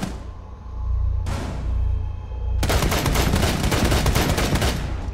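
Gunfire in Rainbow Six Siege during a Border team deathmatch bomb round, a loud sustained burst of rapid automatic shots following earlier booming reports, with no talk over it.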